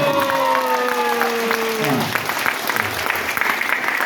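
An audience at a motivational talk breaks into applause as a sustained tone fades out, with scattered clapping swelling into a steady burst from the crowd.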